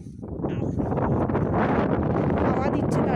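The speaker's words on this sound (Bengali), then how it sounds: "হাওয়া দিচ্ছে তার উপর উল্টো দিকে, আমরা যেদিকে আছি তার উল্টো দিকে হাওয়া দিচ্ছে" Wind blows hard at the Digha seaside, a steady, loud rushing roar buffeting the microphone throughout with no break.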